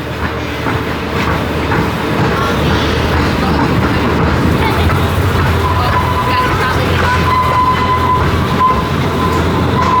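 Pleasure Beach Express amusement park train ride at Blackpool Pleasure Beach running along its track, a loud steady rumble with clattering wheels and a faint rising squeal, continuous throughout.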